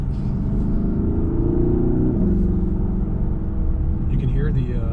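A 2019 Porsche Panamera Turbo on a test drive, heard from inside the cabin: the engine drones steadily and its pitch climbs and then drops back as the turbo spools, while people talk over it.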